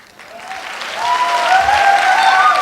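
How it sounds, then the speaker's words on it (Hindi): An audience at a direct-selling speech event in India breaks into applause that starts light and swells within a second into loud, sustained clapping, with a few voices and whistle-like tones rising over it. "सबसे ज़्यादा तो धन्यवाद और तालियां दो इस मैडम को"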